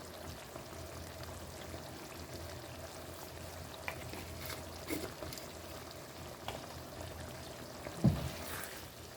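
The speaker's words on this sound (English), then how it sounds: "we can keep frying the sauce" Teriyaki sauce frying with pork in a pan gives a steady, even sizzle and crackle at moderate volume, with a few small pops and light clinks now and then, and no talking.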